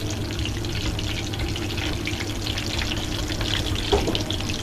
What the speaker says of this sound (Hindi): अब ये ठंडी हो चुकी है, मैं इसमें डाल के फ्राई कर लूँगी